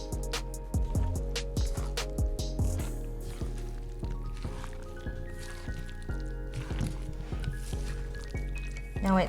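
Vegetables stirred into a thick kimchi pancake batter, giving wet squishing and sticky slapping sounds, busiest at the start and then softer, with a person talking over it.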